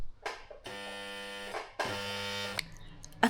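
A sewing machine labouring through thick denim, jammed and straining, gives two long, loud, steady mechanical buzzing runs with a short gap between them and a brief clatter at the end.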